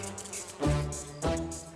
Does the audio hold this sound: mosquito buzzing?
yes